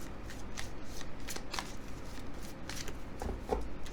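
Tarot cards being shuffled by hand close up, a run of quick papery riffles and flicks with soft taps between them, no talking.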